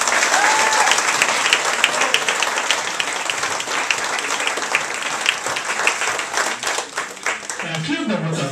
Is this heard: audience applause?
yes